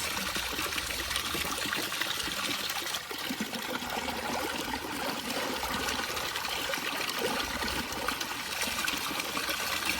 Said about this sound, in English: this is going to just screw on to the end here, and the water will start coming out